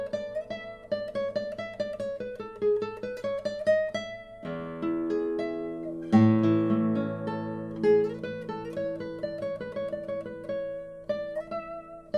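A Fleta classical guitar played solo, close and clear, with melodic fingerpicked lines over sustained bass notes and a fuller strummed chord passage midway, no voices.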